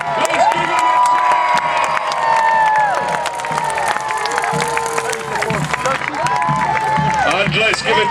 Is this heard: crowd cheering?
yes